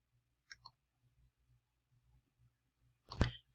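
Computer mouse clicks on a quiet desk, a soft double click early on, then a single sharper click near the end, close and isolated against near silence.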